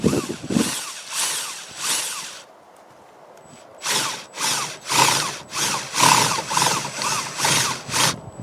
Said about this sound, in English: Now we're going to get our 25/64 drill bit.